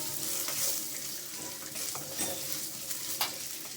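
Chana dal dropped into hot oil fries with a soft, continuous sizzle, joined by intermittent stirring scrapes and light clinks from the pan.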